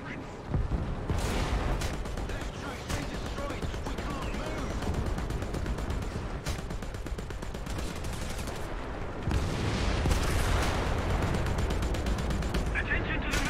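Booming artillery and gunfire from a War Thunder ground forces battle, a dense and continuous roar of blasts with sharper bursts near the start and around the tenth second, loud throughout.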